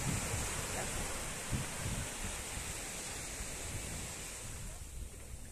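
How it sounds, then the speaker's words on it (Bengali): Sea surf washing continuously at a sandy beach, a broad steady roar of water close by with wind buffeting the microphone. "চুপ করে পাটাকে ভিজিয়ে শুধু জলের সাউন্ডটাকে শোনো"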